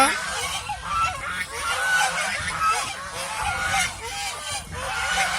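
A flock of geese, gathered together, honks in a busy overlapping chorus of calls that goes on steadily throughout, close and fairly loud.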